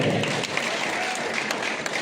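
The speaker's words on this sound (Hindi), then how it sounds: "इनके लिए जोरदार ताली बजाइए।" An audience at a farmers' conference applauds loudly and continuously, dense clapping from a large crowd with a few voices mixed in.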